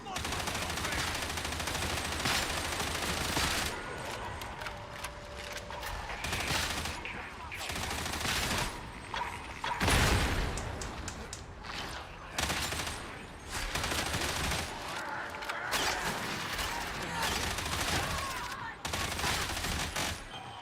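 Gunfire in Warhammer 40,000: Darktide, with near-constant rapid shots and bursts of automatic fire that stay loud throughout and occasionally spike with a heavier blast. Speech is heard intermittently in the background.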